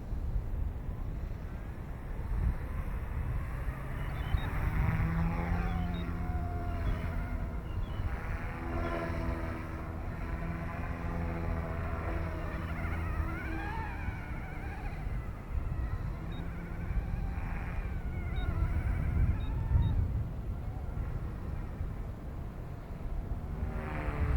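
A Yuxiang F150 RC helicopter flying 3D manoeuvres at normal speed with throttle up makes a sustained motor and rotor whine whose pitch swoops up and down, heard close over steady outdoor noise.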